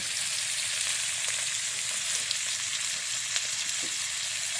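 Tuyo, dried fish, frying in a pan: a steady, dense sizzle with a close, even hiss throughout and no voices.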